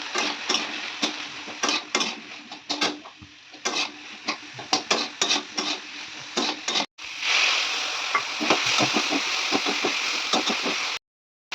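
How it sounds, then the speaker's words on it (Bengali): Water poured into a pan of frying vegetables for a Bengali vegetarian meal, a steady loud sizzle with repeated scraping and clattering strokes of a spoon stirring, briefly interrupted, close up. "এই জলটা দিয়ে দিলাম"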